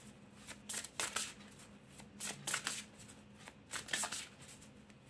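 Tarot cards being shuffled by hand, several bursts of crisp riffling and flapping separated by short pauses, close and fairly loud, with no voice over them.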